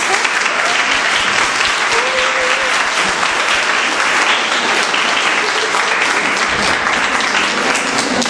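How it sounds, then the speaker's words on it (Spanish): An audience at a conference session gives sustained, close applause, a thick, even wash of clapping that runs throughout, with a faint voice briefly audible beneath it. "Bien, le damos un aplauso."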